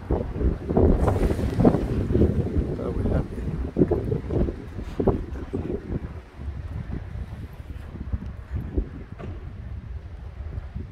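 Strong storm wind buffets the microphone during heavy rain in Al Hoceima, roaring in loud gusts that rise and fall continuously, with faint voices talking underneath.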